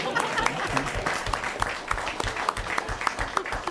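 An audience at a city committee meeting applauds steadily for a longtime Shriner being honored, a moderate crowd clapping at a lively pace, somewhat distant.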